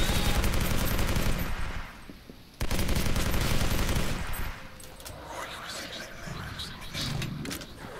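Rapid video game gunfire aimed at propane tanks, loud, dense and fairly close, with a brief lull partway through, then continuing more unevenly beneath a talking voice.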